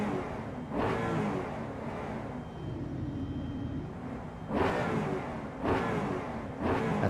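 A race car running a Ford Coyote V8 variant in Project Motor Racing gives a loud, continuous engine and induction roar, swelling in several revving bursts over a steady drone.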